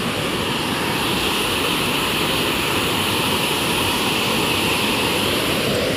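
Water rushing with great force at a waterfall or stream, a loud, dense, unbroken roar that holds steady throughout with no voices.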